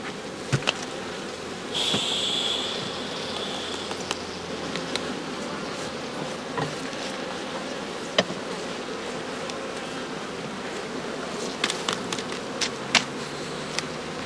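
Honeybees hum continuously inside a straw skep, a steady close buzzing drone with occasional louder passes of single bees and a few small knocks, no voices.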